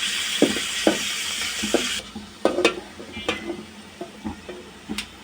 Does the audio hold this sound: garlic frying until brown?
yes